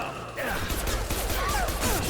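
Gunfire in the Mass Effect 2 video game, a dense burst of rapid shots and impacts running continuously after a brief quiet start, with some game sound and voice mixed in.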